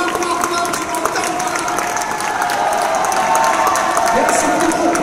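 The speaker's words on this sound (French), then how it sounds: "On les applaudit fort, fort, fort, tu m'entends?" A crowd at a Christmas nativity show in Provins applauds and cheers loudly and continuously, with voices mixed into the steady roar of clapping.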